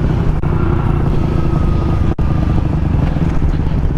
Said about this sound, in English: That motorcycle's coming up.